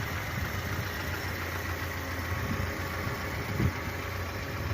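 A 1983 VAZ 2106 car engine idles in a steady, even low rumble, close and uninterrupted, with a soft mechanical hum throughout and no voices.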